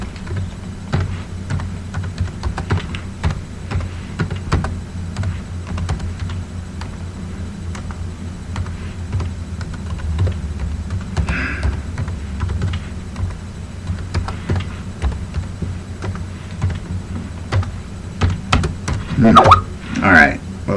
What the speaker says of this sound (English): I have to type this in.